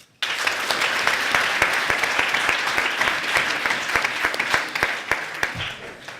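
Sustained applause from an audience at a French eloquence contest, clapping steadily and fairly close for about six seconds after a speaker's performance, with a few louder individual claps near the end.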